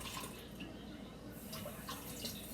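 Cold water runs steadily from a kitchen tap at close range, a continuous splashing wash with faint background voices.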